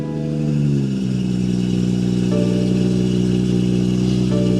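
A car engine, just filled with 6.5 liters of fresh oil, runs loudly and close with a steady mid-pitched drone, rising slightly in revs partway through and holding there, no talk.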